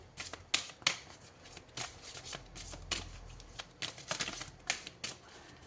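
Tarot cards riffled, shuffled and drawn by hand, a run of crisp papery flicks and snaps in uneven bursts, close and fairly quiet, with no talking.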